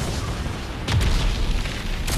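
A bombing explosion in the video game Crysis 3 lands as a deep boom with a broadband burst, followed by a second blast a moment later over a constant rumbling game background.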